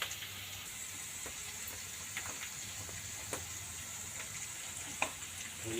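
Salt and turmeric fry in hot oil in an old iron kadai wok, a steady soft sizzle with occasional small crackles and pops throughout, no voices.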